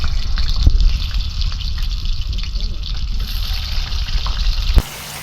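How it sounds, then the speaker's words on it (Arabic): Potatoes, peeled and sliced, half-fried in hot oil with a pinch of salt, giving a steady close sizzle and crackle for several seconds before it drops away abruptly near the end. "دي احنا حطينا البطاطس معانا تتحمر اهي"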